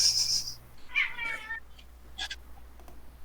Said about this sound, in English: Whose cat do I hear?